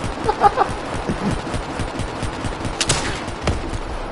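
Rapid bursts of gunfire from the video game Black Ops 3, a few sharp shots early and more late, loud and close over a busy, noisy game soundscape.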